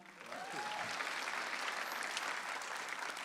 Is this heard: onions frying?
no